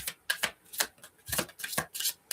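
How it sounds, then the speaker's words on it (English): Tarot cards shuffled in a riffle-like series of crisp, papery bursts, about eight quick slaps and flutters in uneven rhythm, close and fairly quiet with no talk. "We'll do the shuffle again."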